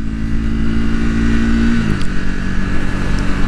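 A 2024 Triumph Speed 400 motorcycle's small engine revs high and steady, then drops in pitch as the throttle eases, loud and close with no voices.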